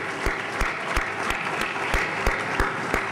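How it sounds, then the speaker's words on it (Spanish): Audience applauding a conference speaker, Dr. Julio Cotler, at a lecture event, a steady wash of clapping with sharper individual claps standing out at a regular pulse. "Pido a todos, de nuevo, un gran aplauso para el Dr."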